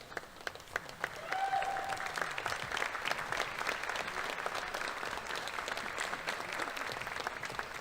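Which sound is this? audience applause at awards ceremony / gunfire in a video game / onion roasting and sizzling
audience applause at awards ceremony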